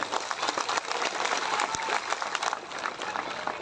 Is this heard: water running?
no